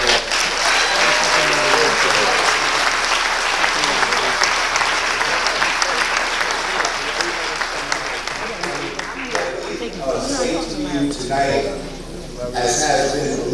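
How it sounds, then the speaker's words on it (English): Church audience at Bethany Baptist Church applauding a guest speaker: loud, dense, sustained clapping that thins toward the end, with some voices mixed in. "Let us give Dr. West another round of applause."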